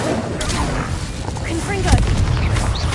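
A Confringo blast spell cast in Hogwarts Legacy, heard as a dense, booming burst of fiery energy over continuous rumbling game effects, with a sharper impact near the two-second mark.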